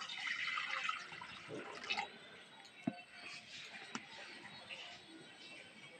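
Faint pouring of a small amount of water into a wok on a stove: a soft, quiet splash and trickle that fades to light drips.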